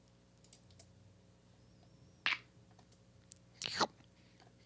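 A "munch" drum sound in a Christmas music mix: a couple of short, crisp crunchy bursts over a quiet background, the second burst louder and longer, with faint clicks around them.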